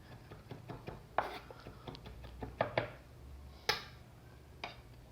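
A knife chops meat and chicken filling for pastel on a board, giving quiet, irregular taps and clacks with a few sharper cuts over a low hum.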